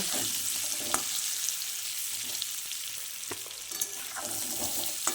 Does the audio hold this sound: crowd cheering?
no